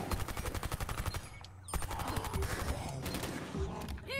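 Rainbow Six Extraction video game gunfire rattles in dense automatic bursts with clicking weapon mechanisms, steady and fairly quiet.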